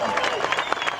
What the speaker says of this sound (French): un tonnerre d'applaudissements pour Thomas Voeckler